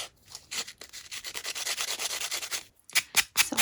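Handmade charm edges being sanded by hand, a steady scratchy rubbing stroke repeated rapidly for most of the clip, then a short pause followed by a few separate, louder scrapes near the end.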